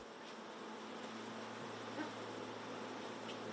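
A soft, unbroken drone of honey bees around a stacked wooden beehive, low and steady throughout with only a small bump of noise midway, no talking.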